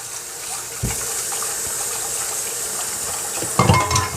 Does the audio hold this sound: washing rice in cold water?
yes